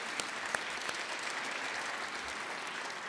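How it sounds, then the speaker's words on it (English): Faint, somewhat distant applause from an audience at the Walk to the Hill event, honoring representatives' offices, with a steady wash of many clapping hands and a few sharper claps near the start. "Could we please give them a round of applause?"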